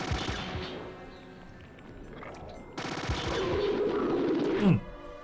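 Gunfire from units in the Battle Isle Phase Four strategy game, a run of rapid machine-gun style bursts with loud, dense volleys building through the clip, no talk.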